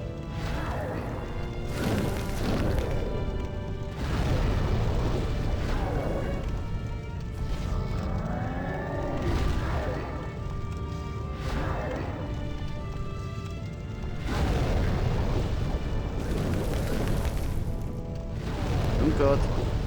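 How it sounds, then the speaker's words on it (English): Repeated heavy booms and crashing impacts from a huge explosion in the video game Demon's Souls rumble for many seconds in loud waves, with a man reacting vocally throughout. "This explosion's just so goddamn big."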